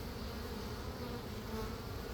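Honeybees in an opened hive during a summer heat wave produce a dense, continuous buzzing drone, close and steady with no talk.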